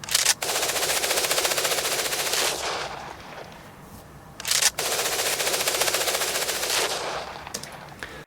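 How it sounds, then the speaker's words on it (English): Rapid machine gun fire sound effect panning left to right, loud sustained bursts of automatic shots with a brief pause in the middle before firing resumes, ending in a few scattered shots. "It's panning from left to right and then right to left, kind of like you're sweeping your machine gun back and forth."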